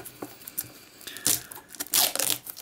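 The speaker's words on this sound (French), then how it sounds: "Un petit coup de ciseau pour enlever le petit bout de plastique qui me va permettre de tout déballer facilement." Thin plastic wrap is cut and torn off a Pokémon card box with scissors, a few short crinkly rips and crackles in quick uneven bursts, close and fairly loud with no talking.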